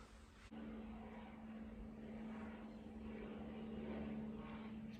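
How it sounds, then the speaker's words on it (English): An airplane passes overhead above a new-build housing estate, a faint, distant droning hum with a steady tonal note that swells slightly as it goes, heard without talk. "Whoa, look at that plane."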